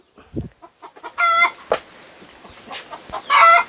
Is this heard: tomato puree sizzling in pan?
no